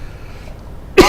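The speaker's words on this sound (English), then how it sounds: "I got a cough here." A single sharp cough bursts out at the end after near-silence, close and loud.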